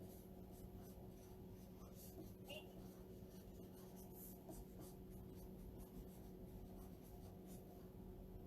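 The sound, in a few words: writing on the back of a transfer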